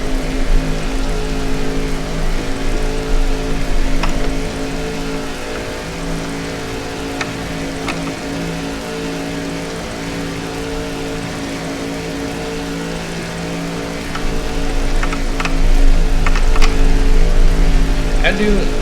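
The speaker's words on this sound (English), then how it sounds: "It's also raining." Heavy rain during a 1963 car race in a racing video game, a steady hiss of falling water over a continuous engine drone, with occasional sharp ticks and a swell in loudness near the end.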